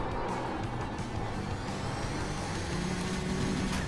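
A race car in the iRacing sim slows hard on the approach to Dandenong Road, its engine note and tyre noise dropping in a steady, close drone for a few seconds.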